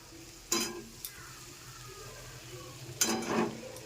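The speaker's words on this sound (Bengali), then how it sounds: "আমি এবার এখানে যে সেদ্ধ করে রাখা ডিম আছে, ডিমগুলো দিয়ে দেবো।" Boiled eggs and potatoes for dim kosha go into sizzling masala oil: two sharp bursts of frying hiss as pieces drop in, over a faint, low background crackle.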